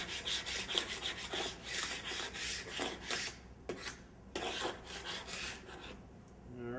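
Paint scraper dragged across a glued-up solid wood panel to clear dried glue, giving a series of close, rasping scrapes in uneven strokes, some short and some drawn out, with a brief pause near the end.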